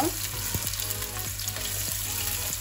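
Onion-flavoured oil sizzles loudly in a pan while jackfruit biryani is being made, a continuous close frying hiss broken by faint stirring scrapes, with no one speaking.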